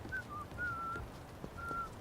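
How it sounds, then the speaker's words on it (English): A character whistling in the video game Like A Dragon: Infinite Wealth, a few short, clear, mid-pitched tones in a loose tune, fairly soft against quiet background ambience. "That's you whistling, Zhao."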